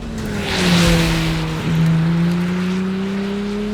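A Ferrari 296 Speciale sports car drives past, its engine note rising into a loud surge, dipping, then climbing again through a second swell before settling, with no talking.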